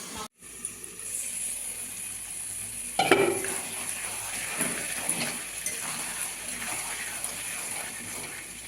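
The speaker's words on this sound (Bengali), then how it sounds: "বারবার ঢাকা দিয়ে দিয়ে রাখবো, আর বারবার নাড়া দিয়ে দেবো।" Chicken curry with papaya and potato cooks in a covered pot with a low steady sizzle, broken by scraping stirs and lid clatter, the loudest clank about a third of the way in.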